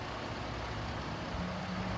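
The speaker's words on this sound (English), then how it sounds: "And there goes a service truck." A service truck passes a construction zone, a steady broadband road-vehicle rumble at moderate distance with a faint tonal whine, continuous over two seconds with no talk.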